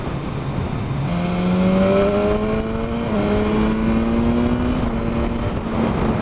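A 2017 BMW S1000R motorcycle with a tuned ECU accelerates hard and close, its engine note climbing in rising sweeps, dropping briefly at a gear change, then pulling up again over wind noise.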